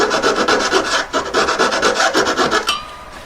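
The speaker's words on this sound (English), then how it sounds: "once you've got the hole going, it saws quite quickly" A saw blade cuts through a wooden collet with steady, rapid rasping strokes, close and loud, ending abruptly near the last moment.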